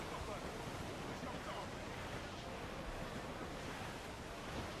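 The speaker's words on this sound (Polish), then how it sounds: "O, fala duża jakaś." Big ocean waves crash in Assassin's Creed IV Black Flag, forming a steady, unbroken roar of surf with a windy hiss, fairly faint throughout.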